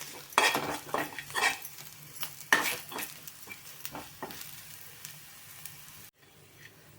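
A utensil scrapes and clinks repeatedly in a frying pan while spices and chili powder are stirred in, over a soft sizzle; close, irregular strokes that ease off toward the end.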